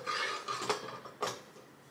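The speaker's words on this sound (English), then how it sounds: "This one takes a butane. So I'll go ahead and put that in." Butane canister clicked and fitted into a compact Snow Peak or Kovea camping stove, a few close metallic clacks and scrapes, quiet and brief, with no talk.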